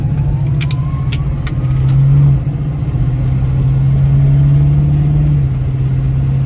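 A 1973 Ford Mustang Mach 1 with a 351 Cobra Jet four-barrel V8 cruises on the highway, its steady mid-low engine drone continuous and fairly loud from inside the cabin, with a brief dip and swell midway.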